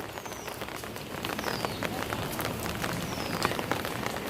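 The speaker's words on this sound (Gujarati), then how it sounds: "આપણે આ રૂમમાં ઊંઘ્યા હતા અને વરસાદ આવવાનું ચાલુ થયો પાહો" Steady rain pours down outside a room at a Ramapir temple fair, a dense, even patter with occasional heavier drops, continuous and fairly close, with no talking.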